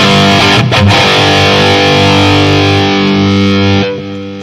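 Heavily distorted high-gain electric guitar through a Headfirst amp rings out loud and sustained, a struck chord held with thick harmonic buzz before a brief choke near the end.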